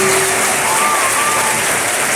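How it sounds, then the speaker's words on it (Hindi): An audience at a recognition event in Katihar, Bihar bursts into loud, sustained clapping that fills the whole clip evenly, with a faint voice tone briefly audible under it. "एक बार भारतीय सेना के लिए, तीनों सेनाओं के लिए जोरदार तालियां होनी चाहिए"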